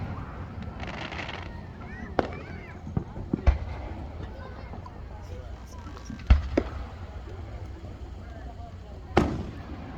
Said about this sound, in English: Pyrotechnics at its best.